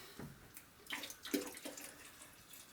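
Second wort runoff, about four liters, poured back onto the grain filter bed while brewing, heard as a faint, broken splashing and trickling of liquid in a few short bursts.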